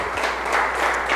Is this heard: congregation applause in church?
yes